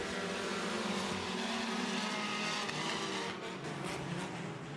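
Sport compact race cars roar around the Clay County Speedway dirt oval during a feature race, a dense continuous wash of engine noise with pack cars passing at moderate distance.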